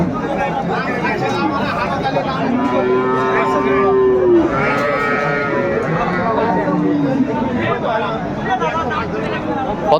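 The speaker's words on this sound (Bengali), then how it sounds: "এগুলো বছর বিয়ানি গরু আমাদের এদিকে যে সাইওয়াল গরুগুলো পাওয়া যায়" Sahiwal cows with calves low and moo at a busy cattle market, a long drawn-out call rising above a constant babble of crowd chatter and nearby talking, loud and close.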